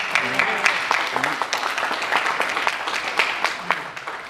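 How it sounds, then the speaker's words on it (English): An audience at a talk on revitalizing early Vitaphone film soundtracks applauds for presenter Matthew Barton, a dense, steady round of clapping lasting several seconds. "let's give Matthew Barton a round of applause"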